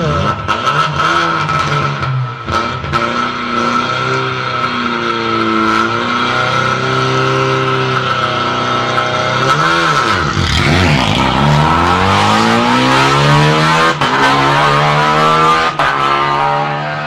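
A rally car at the start of the 40th Rallye des Grands Fonds idles with a rough, throbbing engine, then revs hard and accelerates away. The engine is loud and close, with the pitch climbing steadily through the gears.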